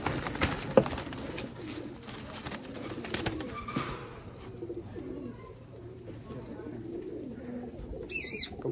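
A pet pigeon coos softly in low, repeated murmurs close by, with occasional faint chirps from other birds.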